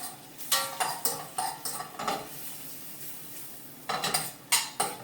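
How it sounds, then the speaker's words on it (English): Asparagus with garlic tossed in a pan on the heat, with a series of sharp metallic clanks and scraping knocks in an uneven rhythm, close by over a faint sizzle. "We cooked on the asparagus. Quick little toss on the heat."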